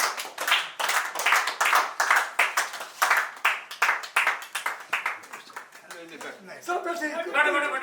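A room of classmates at a 1970–71 commerce batch reunion claps steadily and briskly for several seconds, with laughter and chatter rising as the clapping fades near the end.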